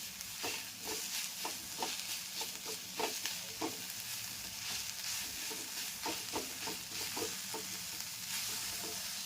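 Ambadi (sorrel) leaves roasting dry in a pan for a spicy chutney, with a soft steady sizzle and repeated scraping stir strokes at close range, no voices.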